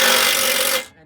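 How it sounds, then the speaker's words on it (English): An impact wrench hammers at a rusty exhaust bolt while a parts-store glass pack is being installed, giving a loud, harsh buzzing burst just under a second long before it cuts off. "Grab an impact and send her home, boys."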